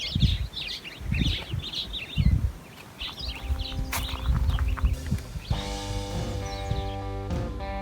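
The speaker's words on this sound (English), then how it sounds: "The birds here are incredible." Birds chirp and call in quick bursts close by at a campsite in Karoo National Park, South Africa, giving way to a steadier, droning harmonic sound in the second half.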